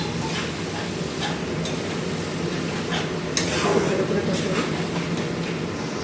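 Egg curry being stirred and fried with capsicum paste in a home kitchen, a steady sizzle with scraping stir strokes, close and fairly loud under continuous talk.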